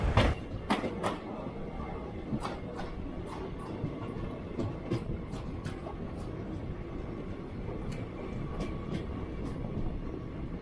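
The Narmada Express passenger train rolls along the tracks with a steady rumble and repeated sharp wheel clicks over rail joints, sustained and fairly close throughout.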